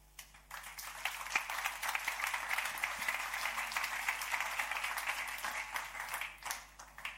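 Sustained applause from a conference audience, many hands clapping steadily for several seconds before tapering off near the end.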